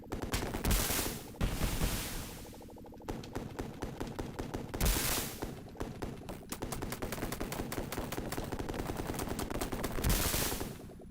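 A helicopter in the video game Urban Strike fires its guns and rockets in dense, rapid automatic bursts, with sharper explosive hits between them, loud and continuous across the whole stretch.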